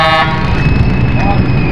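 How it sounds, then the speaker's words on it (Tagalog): A car horn toots over steady, rumbling traffic and engine noise on a road trip to Marinduque, Philippines, fairly close, with a sustained tonal blare near the start. "Busina!"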